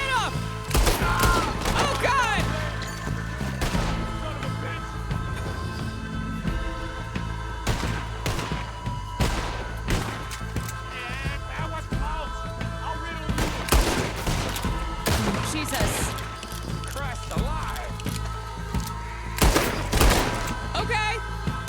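Rapid bursts of video game gunfire, single shots mixed with automatic volleys and thuds, crackle loudly and almost without pause over a steady game soundscape, while excited players talk throughout.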